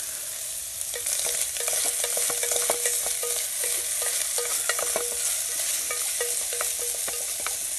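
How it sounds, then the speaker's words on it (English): Food cooking in a Hungarian army mess kit outdoors is stirred with a utensil, sending rapid metallic clinks and scrapes over a constant hiss of frying and faint wind, close up and without speech. "Let's give this another little stir."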